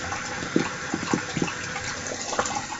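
A shaving towel dipped and swished in a basin of cold water, giving soft close splashes and a few sloshing bursts over a quiet background.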